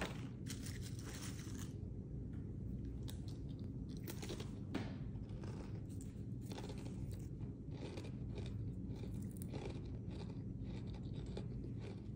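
Close, repeated bites and crunchy chewing of Trader Joe's Pink Lady cinnamon sugar apple chips (gluten-free crisps), a steady run of dry crackling crunches with no talk.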